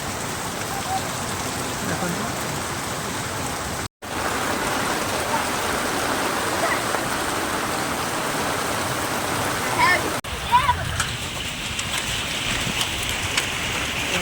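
Heavy rain driven by strong wind in a village in Odisha makes a loud, steady roar of downpour with no letup across the whole stretch. One brief dropout breaks it near the start, and a slight shift in texture comes near the end.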